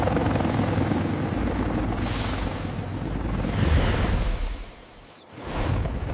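A helicopter holds a hover over a prairie clearing, its loud rotor and engine roar filling the air steadily, swelling with whooshing passes and briefly dipping before surging back.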